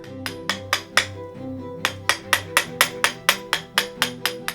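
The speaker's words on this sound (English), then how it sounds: "The earrings, I take wire, I shape the designs, I hammer it" Metal wire being hammered into shape for handmade earrings, a run of about eighteen sharp, ringing hammer strikes at a steady workshop rhythm, close and loud, with a short pause early on.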